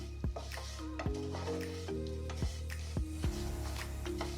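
Vermicelli lightly roasting in a teaspoon of ghee in a pan, with soft sizzling and several distinct scraping stirs of a spoon against the pan, no talking.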